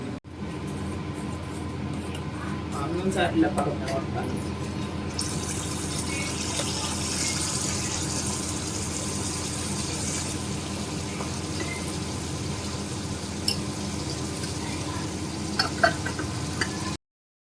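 Mashed banana batter with coconut frying for unni appam, a steady broadband sizzle that brightens and intensifies after a few seconds and holds evenly throughout, with no talking.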